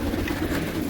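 Pigeons of many kinds kept by a Delhi pigeon fancier, giving a steady low murmur of cooing close by, continuous through the second with no speech over it.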